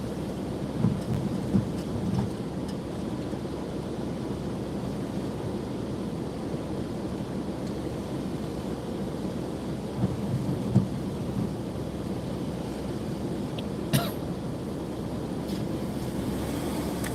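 Heavy rain pours steadily during Hurricane Helene in Florida, a dense constant hiss with a few sharp cracks and distant rumbles of thunder, breezy and continuous with no talk.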